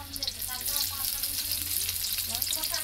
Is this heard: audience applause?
no